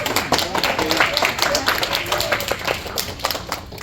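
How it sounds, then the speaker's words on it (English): Clapping from a comedy show audience, steady and fairly close, with voices and crowd noise mixed in for a few seconds. "Clap it up if you're a kid"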